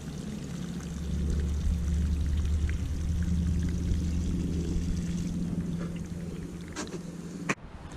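Water flowing down a woodlot road and running under the roadway through a culvert, a steady, full rushing and pouring wash that holds constant for about seven seconds before a brief knock.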